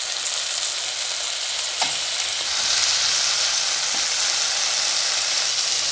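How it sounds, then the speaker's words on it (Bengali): Spice masala for a rui fish curry frying with a splash of water, giving a dense, even, loud close sizzle with one or two faint utensil taps and no voices. "মশলাটা যাতে পুড়ে না যায় আমি সামান্য পরিমাণে একটু জল মিশিয়ে দেবো"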